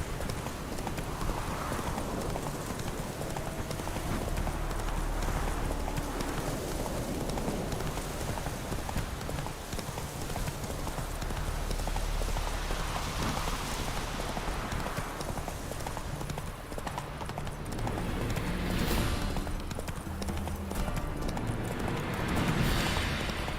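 Hooves of the horse Roach in The Witcher 3 clip-clop in a steady galloping rhythm over a constant wash of rain-like ambience, fairly faint and continuous throughout.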